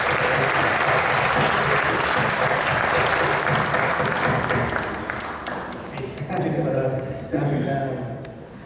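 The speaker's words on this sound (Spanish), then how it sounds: "Les voy a pedir, por favor, un aplauso para el profesor" An audience at a book presentation in Oaxaca gives a sustained round of applause for a professor, loud dense clapping that thins out toward the end while voices begin to talk over the fading claps.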